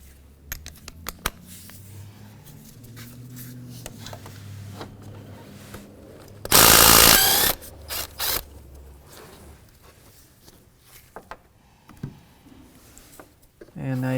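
A ratchet with a 12 mm socket works on bolts in a 2015–2019 Hyundai Sonata engine bay, sounding as quick clicking bursts and metallic rattles with a loud harsh burst midway, while a person talks.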